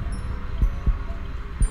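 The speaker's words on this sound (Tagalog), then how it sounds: "Bumilis bigla ang tibok ng puso ko" A low, muffled heartbeat sound effect thumps in a steady pulse, three soft beats over a faint hum, with no voices.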